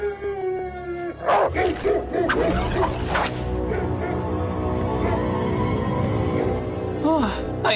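Several dogs bark and howl loudly in a chaotic burst in the animated series Slugterra, with shouting voices and commotion layered over a steady rumble.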